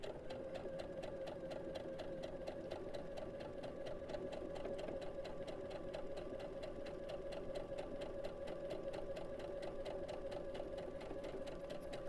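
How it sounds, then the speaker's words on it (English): A domestic sewing machine runs steadily, stitching a quilt block along a marked line, its needle hammering in a fast even rhythm close by for the whole stretch without speech. "We're going to sew on the line."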